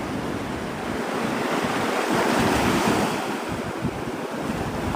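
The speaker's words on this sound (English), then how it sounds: "The waves are like medication from God." Ocean surf washes steadily onto the shore in a continuous broadband roar, with wind buffeting the microphone and swells rising and falling throughout.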